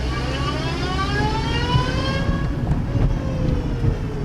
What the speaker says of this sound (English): See that whining noise you hear? That's normal while in reverse.